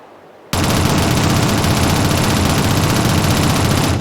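Pistol gunfire in the 2007 video game Shadowrun, heard on a tutorial target range: after half a second of quiet, a loud, dense burst of shots starts and carries on without a break to the end.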